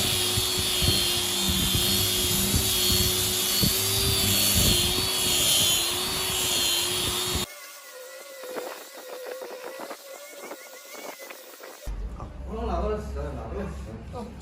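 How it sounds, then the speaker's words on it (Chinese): A power sander works across a slab cut from a golden nanmu (phoebe) tree root, a loud, steady motor whine for about seven seconds before it stops. Quieter clattering and handling noise follow, with people talking throughout. "我们现在把这个打磨来看一下效果怎么样"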